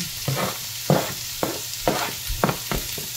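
Onions tossed into a hot pan and stir-fried for a bitter gourd and green mango dish, a sizzling bed broken by about six sharp scraping stir strokes at a loose rhythm, no talking.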